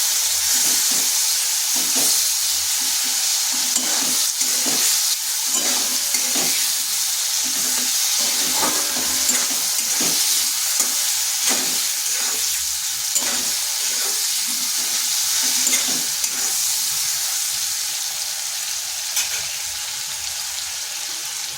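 Large boiled potato frying in a pan for Bengali vegetarian potol curry, a steady close sizzle with repeated scraping stirs throughout, no talking.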